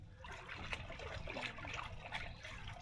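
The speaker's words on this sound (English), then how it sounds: "Give it a quick rinse." Water trickles and splashes softly while stingray meat is rinsed outdoors on a mangrove island. The flow is faint and continuous, with small irregular spatters and no talking.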